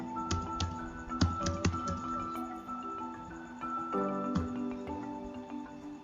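Computer keyboard typing at a desk, a run of quick irregular keystrokes and clicks over a low background hum, close and moderately loud with no voices.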